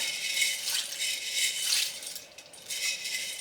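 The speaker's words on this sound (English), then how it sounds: "Put those into some boiling water." Dry small egg noodles clatter and rattle in a steady, crisp shower as they pour into a pot of boiling water, briefly easing before a final burst.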